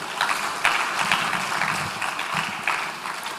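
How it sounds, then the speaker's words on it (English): An audience in a hall applauds after a keynote by a museum director at a centenary ceremony marking King Prempeh I's return from exile. The clapping is dense and continuous, with brief louder surges throughout. "Please, a round of applause for him."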